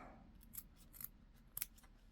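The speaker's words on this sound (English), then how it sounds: "I'm going to start by cutting close, but not super close to my design here" Scissors make several crisp, quiet snips as they cut around a beaded shibori necklace piece, the snips coming in an uneven rhythm over a soft background hum.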